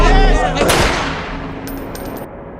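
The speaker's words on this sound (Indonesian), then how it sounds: "polisi lain yang memborgolnya tiba-tiba berdiri dan menembak Oscar" A police officer fires a gunshot at a man in a film scene, a sharp loud crack followed by a decaying reverberant tail under a tonal background score.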